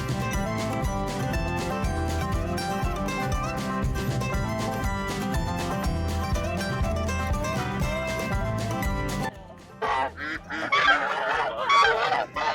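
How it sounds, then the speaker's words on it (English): Geese honking at a Green Bluff farm in Washington State in fall, a clear burst of honks after about nine seconds of loud music that dominates the first part. "I just feel like geese are just the assholes."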